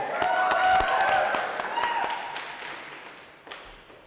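A crowd claps together in a dense burst of applause that gradually thins out, with a few voices mixed in.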